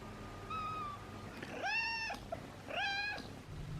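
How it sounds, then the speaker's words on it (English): A 15-week-old Ragamuffin kitten meows three times indoors, close and clear, in short rising-and-falling cries separated by brief pauses. "he meows a lot"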